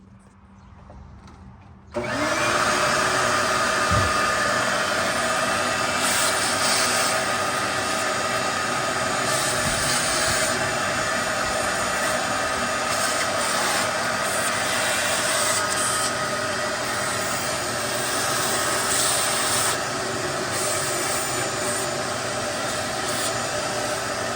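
A shop vacuum switches on after a quiet start and runs loud and steady, its whining roar sucking debris from the intake area of a Cummins 5.9 diesel engine during a grid heater delete.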